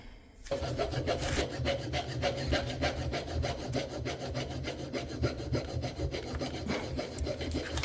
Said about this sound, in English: I'm going to file down this broken screw so that then it's flat